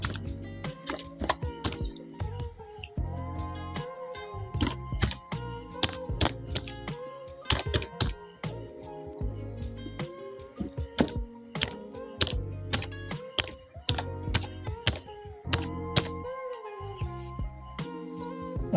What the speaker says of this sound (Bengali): আমি একটা ইমেল ঠিকানা লিখি।